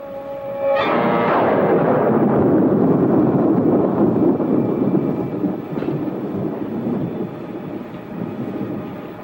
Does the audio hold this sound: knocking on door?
no